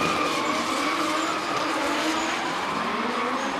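Drift car tyres skidding through a long continuous smoky slide at a drifting competition in Tauranga, with a steady loud hiss of rubber over a straining engine drone and no break in the noise.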